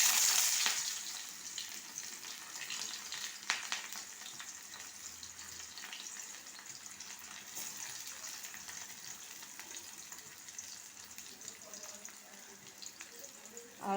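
Chopped onion sizzles in fresh oil in a pan for a Bengali fish-head and potato dish, a steady close hiss of frying that is loudest at the start, with a voice talking over it.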